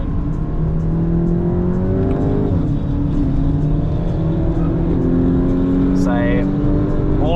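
A Mk8 Volkswagen Golf accelerates hard through a corner at Lakeside Park during a track day, its engine note climbing and shifting in rising sweeps, loud and close, with people talking over it.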